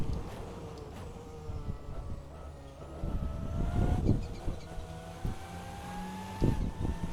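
Racing game car engine in the VRC Auriel 8 revving under load through a fast corner, rising pitch with a quick upshift into fourth, engine note climbing again with brief bursts, no talking.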